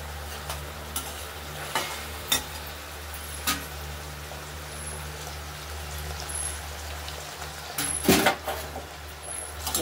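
Tomato, turmeric and spices frying in oil for a katla fish curry, a steady crackling sizzle with occasional stirring knocks and scrapes of a spoon, close and continuous.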